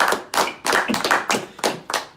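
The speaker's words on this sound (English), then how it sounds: "Can we clap for him really quick?" A small group claps for a young ska performer during an interview, with several bursts of clapping in a loose rhythm, close and fairly loud with short pauses between them.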